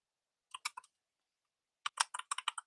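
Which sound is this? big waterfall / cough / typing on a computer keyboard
typing on a computer keyboard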